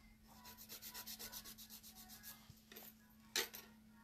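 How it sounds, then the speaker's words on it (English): A 150 grit file rubs quickly across the free edge of an acrylic nail in a rapid, even series of short strokes, faint and close, ending with a couple of sharper scrapes. "I'm going to take a 150 grit file and file the free edge."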